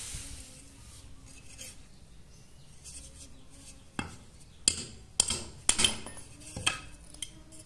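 A hammer strikes red brick and lightweight brick during a brick strength test, landing about five sharp, loud knocks in an uneven rhythm over quiet background clatter.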